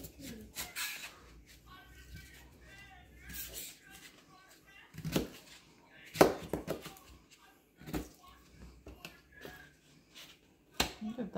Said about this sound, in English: So now I'm just gonna roughly cut them kind of in big pieces just so they don't dissolve while the meat's cooking.